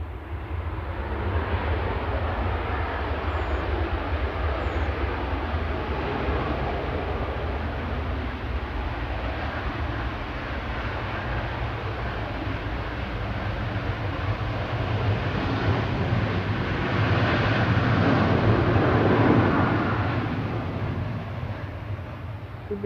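Airliner on flight 6880 from Copenhagen touching down after a second landing attempt at Manchester Airport, a steady broad jet roar rising slightly toward the end, heard from a distance with no talk.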